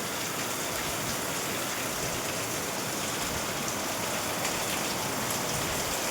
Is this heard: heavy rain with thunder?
yes